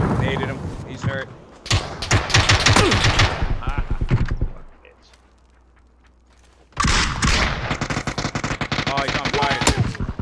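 Bursts of automatic gunfire in the PUBG video game, loud rapid volleys with a near-silent gap of about two seconds before the shooting resumes, and voices talking over the shots.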